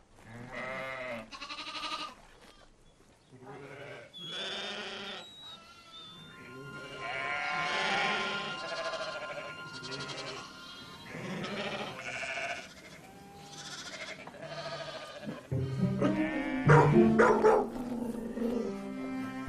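Sheep bleat repeatedly in a pen where shepherd dog puppies are kept among them, calls of varied pitch overlapping one another, with a busier, louder burst of activity near the end.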